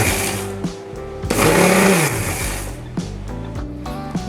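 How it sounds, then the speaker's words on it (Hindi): A mixer grinder whirs loudly and steadily as it grinds softened tomatoes and onions into a paste, its motor pitch shifting as it runs in short bursts, with no talking over it. "अब हम ये सॉफ्ट हुए टमाटर और प्याज को मिक्सी में पीस लेते हैं।"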